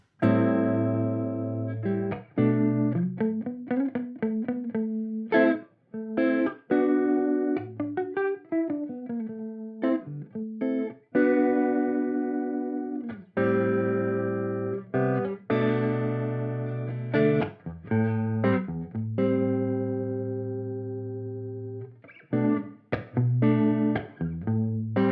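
Electric guitar through a Meris Mercury 7 reverb pedal with modulation turned up, a series of sustained, wavering notes and chords with a lower octave shimmer, ringing and decaying between plucks, no talking.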